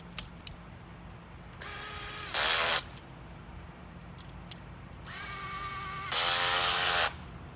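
Two short bursts from a power tool tightening bolts and lock nuts during equipment assembly, each a rising whir ending in a brief loud buzzing rattle, with faint clicks and handling noise in between.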